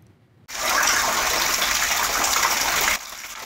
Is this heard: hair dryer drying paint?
no